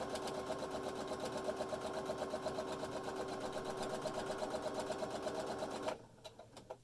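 A sewing machine runs steadily, stitching together the edges of fabric for a face mask, its needle whirring in a fast even rhythm for about six seconds before stopping, leaving a few faint clicks.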